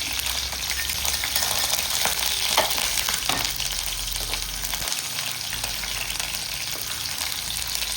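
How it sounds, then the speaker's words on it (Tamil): Garlic and onion sautéing in oil for a chutney, a loud, steady sizzle with occasional stirring scrapes throughout. "பூண்டு, வெங்காயம், பூண்டு வதங்கிட்டு எடுத்துக்கணும்"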